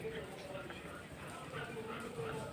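Several dogs bark and yip together in a continuous, noisy outdoor din with no clear pauses.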